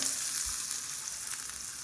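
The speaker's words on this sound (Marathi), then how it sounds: "मस्तपैकी कडकडीत आपला तडका रेडी झालेला आहे" Tadka for curd rice crackles in hot oil, a dense, even sizzling hiss with faint pops, close and steady, and no one talking.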